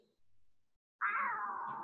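A pet cat lets out a single loud, close meow that holds steady for nearly a second, after a faint earlier murmur and a brief pause.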